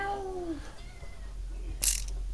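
A cat gives a single clear meow with a falling pitch at the start, followed by quiet room tone and a brief sharp noise near the end; no talking.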